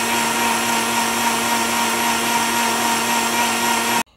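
A kitchen blender whirs loudly and steadily, mixing ice cream and milk into an eggnog milkshake. The motor runs at constant strength for about four seconds, then cuts off abruptly.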